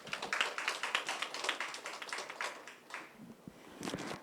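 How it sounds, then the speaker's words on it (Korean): A fairly quiet audience applauds after an electric vehicle business presentation, a modest spread of rhythmic hand claps heard from a distance that dips briefly before picking up again. "좋은 발표해 주신 안중간 상무님께 다시 한번 큰 박수 부탁드립니다."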